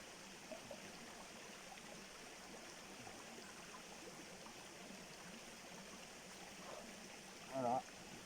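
A running stream at an outdoor bivouac campsite, a steady, continuous rushing and gurgling of water that fills the whole span, with a brief faint sound near the end.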